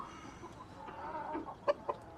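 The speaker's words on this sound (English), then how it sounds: "Silky chicken." A Silkie chicken clucks softly outdoors, with a murmur of low clucks building to two short, sharper calls near the end, fairly close and without talking.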